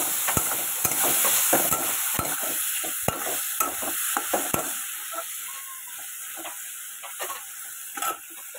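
Bitter gourd and potato pieces frying in a pan, loud continuous sizzling with quick, closely spaced stirring clicks early on that thin out later, no talking.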